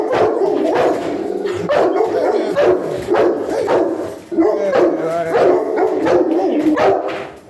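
An anxious dog barks and howls continuously, close and loud, with repeated sharp barks blending into drawn-out whining howls throughout.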